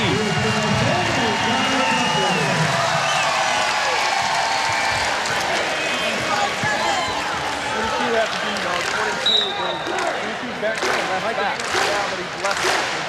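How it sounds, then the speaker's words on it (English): A crowd at the Stan Sheriff Center volleyball match keeps up a broad, steady wash of rhythmic clapping, with sharp claps and a short whistle near the end, under a commentator talking. "A steady clap of the Stan Sheriff Center"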